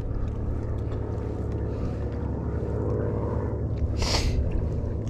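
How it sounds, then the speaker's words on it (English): A fishing kayak's motor runs steadily on a lake, a loud continuous drone with a broadband rumble throughout and a brief hissing splash near the end. "I'm letting my fish recover a little bit before I turn the motor back on."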